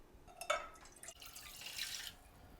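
Water poured into a cooking pot for brown rice in a home kitchen, a few soft splashing trickles and drips, faint and close, with a brief bright pour near the end.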